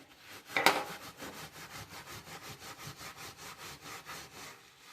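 Rhythmic back-and-forth scrubbing on a new kitchen cabinet while cleaning off stuck glue, with steady repeated strokes and one sharp scrape near the start, close and alone.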